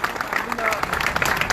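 An audience applauds at a pigeon flying association gathering, giving a patter of many hands clapping at moderate volume beneath someone speaking loudly over it.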